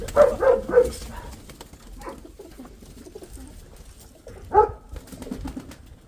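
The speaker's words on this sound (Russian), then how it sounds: "У мене є ще маленьке голубенятко." A young pigeon gives a short run of soft coos close by, then falls quiet before a single coo near the end, over faint background noise.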